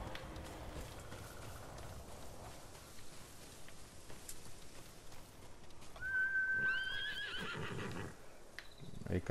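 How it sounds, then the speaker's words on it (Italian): In the Ghost of Tsushima video game, a horse approaches and gives a loud whinny with a rising, wavering tone partway through, over rustling footsteps and ambient outdoor noise, with someone talking faintly. "il cavallo ci raggiunge subito."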